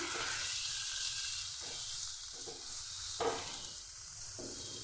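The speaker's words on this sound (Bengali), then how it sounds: "ঘি আর বেরেস্তার সঙ্গে একটু নাড়িয়ে নিচ্ছি" Pineapple stirred with ghee and fried onions in a hot pan: a constant close sizzle broken by repeated spatula scrapes at a steady rhythm, no voices.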